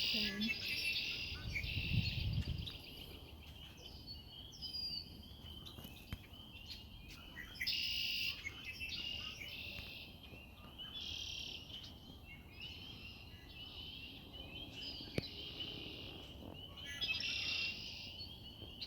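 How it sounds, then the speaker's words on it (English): Frogs calling outdoors at night, their repeated pulsed calls rising and falling over a steady bed of cricket and insect chirping. The calls are faint and distant, with low rumbling noise near the start. "I like that there's still some frogs that are trying to get laid."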